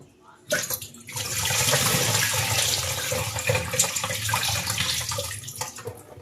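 Soaked rice for appe batter is swished and rinsed in water up close, making a continuous loud sloshing and splashing that starts abruptly and runs throughout.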